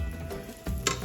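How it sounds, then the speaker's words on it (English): Rice toasting in a pot on the stove gives a steady, close sizzle and crackle that swells briefly near the end, with no voices present. "And I turned the rice back on so you can hear it sizzling away in here."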